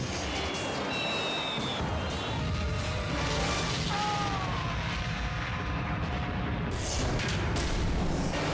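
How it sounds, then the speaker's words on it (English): Fireworks display in Peru going off chaotically, a dense continuous barrage of crackling blasts and booms with whistling streaks, loud and sustained throughout. "This is one fireworks display the nation never wants to see again."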